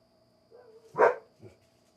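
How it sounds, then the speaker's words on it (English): A dog gives a single loud bark with a softer yelp after it, heard fairly close over a faint steady hum. "Damn dogs."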